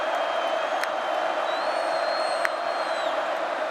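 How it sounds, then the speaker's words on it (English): A football stadium crowd cheering during a North Dakota vs. Kansas State college game, a loud continuous roar of many voices, with a few brief whistles and sharp peaks rising above it. "This crowd making some noise."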